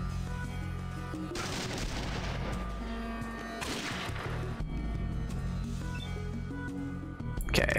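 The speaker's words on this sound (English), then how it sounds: "Go to burst, not single. Stop shooting Sulik" Gunfire in the video game Fallout 2, a series of loud bursts and cracks set against a steady droning game soundtrack, with no voice heard.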